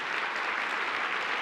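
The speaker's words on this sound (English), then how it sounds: "now give them a round of applause." A large audience at a higher-education talk claps continuously, producing a dense, even wash of applause that holds at a steady level throughout.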